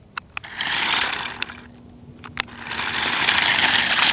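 A remote control John Deere toy tractor whirs along in bursts, its small electric motor buzzing up and down with a few sharp clicks and scrapes as it drives and turns close by.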